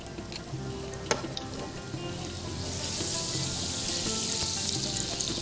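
A generous cube of butter melting in a hot pan, a steady close sizzle and crackle that builds in intensity over a few seconds, with occasional clinks of a utensil and no talking.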